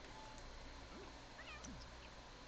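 A cat in The Sims 4 video game meows twice, short rising-falling calls over a steady bed of game music and background noise, with no talking.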